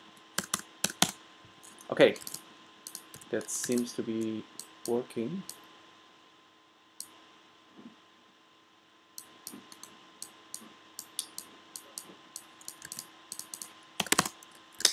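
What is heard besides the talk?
typing on a computer keyboard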